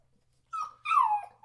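A small puppy whimpering in its crate at night, two short high whiny cries in quick succession, the second longer and falling in pitch, close and clear against a quiet room.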